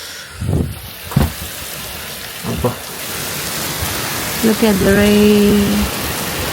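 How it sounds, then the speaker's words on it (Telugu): Rain falls steadily outside, a broad continuous hiss under the whole scene, while people talk over it and a few sharper knocks and a short tonal beep-like sound break through near the end. "వెనకమాల వర్షం పడుతుంది."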